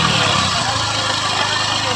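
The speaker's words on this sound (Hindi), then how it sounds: "और बाइक का आप साउंड भी सुने किस तरीके से साउंड आ रही है इसके" A Honda Livo motorcycle idles after a full engine refit, a loud, close, steady engine rumble that runs unbroken throughout.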